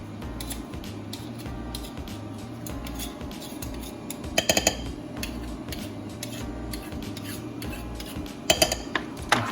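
A utensil scrapes and scoops a crushed garlic mixture in a bowl, with soft rubbing strokes and a couple of sharper metallic clicks against the dish, fairly quiet and close.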